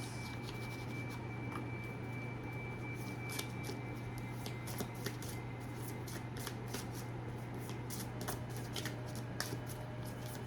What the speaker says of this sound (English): So I just want to pull a few cards about this life purpose.